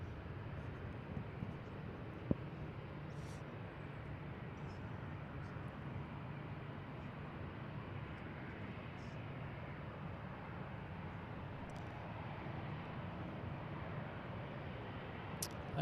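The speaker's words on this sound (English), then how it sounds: "this is the Anchorage flight that's getting ready to taxi on to 16 left" At Seattle airport, a passenger airliner on the Anchorage flight rumbles in the distance as it prepares to taxi onto runway 16 left, a low, steady engine drone with a faint background hum and one brief click.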